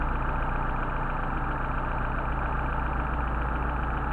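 A Mercedes 190SL engine idles on Solex 44PHH carburetors during carburetor adjustment, a steady, even, close mechanical rumble with a fine rhythmic pulse and no talking.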